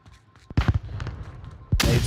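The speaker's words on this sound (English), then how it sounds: "Nades and flashes coming out." Grenades and flashbangs go off in a multiplayer shooter game match, a couple of sharp bangs with a short rumbling tail between, then a loud burst of blast noise at the end.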